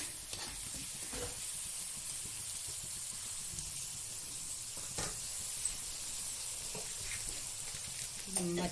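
Masala spices being fried in a pan with salt for a Bengali vegetable chorchori, a steady soft sizzle and hiss running throughout with a few faint stirring scrapes.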